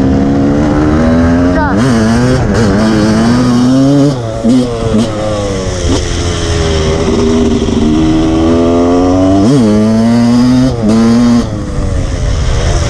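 A 1999 Husqvarna CR 250 two-stroke motocross bike being ridden, its engine loud and close, revving up and down through repeated rising and falling pulls with brief throttle dips.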